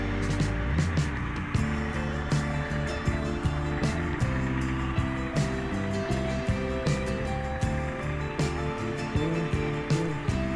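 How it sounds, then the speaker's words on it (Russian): A Bajaj Boxer motorcycle engine idles steadily after starting, a continuous low mechanical drone with irregular ticking and rattling, close and fairly loud, with no talking. "Ну вот, мотоцикл завелся и прекрасно себя чувствует."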